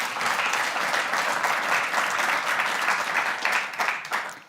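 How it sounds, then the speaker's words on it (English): Studio audience applause at a corporate product preview event, a steady dense wash of many hands clapping throughout, fairly loud and close, tapering slightly at the end. "Let's give them a round of applause."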